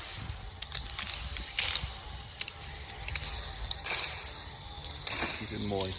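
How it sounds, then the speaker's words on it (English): A hose spray hisses and patters over a freshly seeded lawn in uneven, shifting bursts, close by, with faint voices underneath. "So now I'm going to water it right now."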